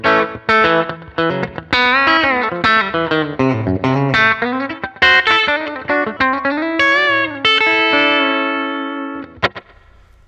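A 2015 Fender American Standard HSS Stratocaster with Shawbucker pickup, played through a Dynacomp compressor and slapback echo, picks out a clean melodic lick of plucked notes and bends, ending on a sustained ringing note.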